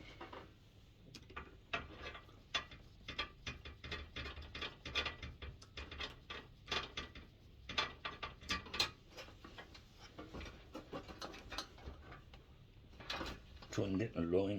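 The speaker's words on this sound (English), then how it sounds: "Now I can get a screwdriver on it." A screwdriver works on a diesel heater being taken apart, giving dense clicking, ratcheting and small metallic knocks at close range that keep up continuously.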